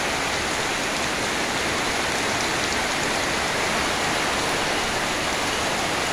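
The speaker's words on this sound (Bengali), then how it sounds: "প্রচণ্ড বৃষ্টি হইতেছে।" Heavy rain pours down outside during flooding in Noakhali, a dense, steady hiss of downpour, loud and unbroken, with no voices.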